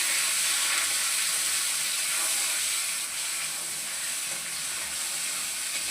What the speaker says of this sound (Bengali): এখানে চিংড়ি মাছটা দিয়ে দিচ্ছি,